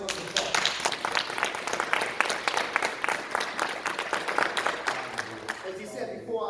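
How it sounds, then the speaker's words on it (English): An audience at a live poetry performance at a YMCA gives a sustained round of steady clapping, fairly near, tapering off near the end as a voice starts to speak. "Let's give them a nice round of applause."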